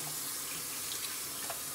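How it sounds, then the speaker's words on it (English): Tap water runs steadily into a kitchen sink during handwashing, a continuous close hiss without pauses. "Let me wash my hand,"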